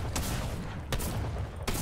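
Gunfire in the video game Fortnite, a few sharp shots in quick succession over a dense, rumbling game background with no talking.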